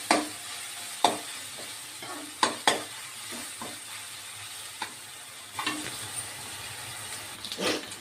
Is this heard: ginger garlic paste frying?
yes